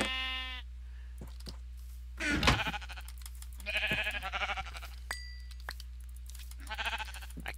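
Minecraft sheep bleat several times, wavering calls spaced across the stretch, fairly close and clear over a low steady hum.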